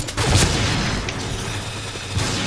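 A grenade explodes in the online shooter Point Blank, giving a loud, broad blast of noise that rolls on briefly with a few smaller thumps afterward and no speech over it.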